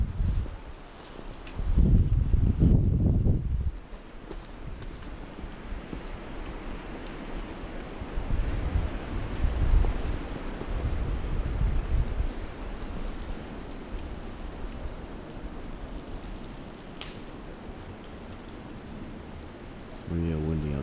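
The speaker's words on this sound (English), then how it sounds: "windy out today." Winter wind gusts outdoors at a frigid campsite, roaring in surges against the microphone and easing to a steady rush between gusts, with people talking in a low voice at times.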